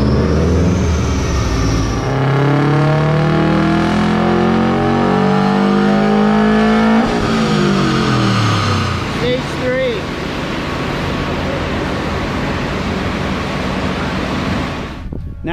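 Race car engine at a tractor-pull style event revs hard and climbs in pitch, loud and sustained, then drops to a rougher steady roar with crowd noise and talk over it.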